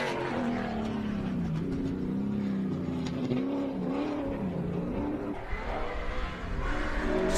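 A Mitsubishi Starion race car climbs the course at the Ben Nevis Station Golden 1200 hillclimb, its engine screaming in a steady, loud drone that rises and falls with the revs and carries on unbroken.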